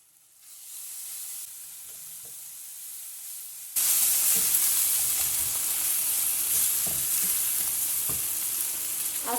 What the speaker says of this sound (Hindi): तो बस इसको थोड़ी देर 2 से 3 मिनट के लिए हम कवर करके रखेंगे ताकि ये टमाटर गल जाए